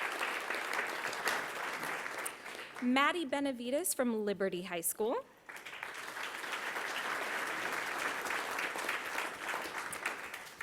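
Students at a school district governing board meeting receive a broad, steady wash of applause from the audience, continuing under a voice announcing names and schools.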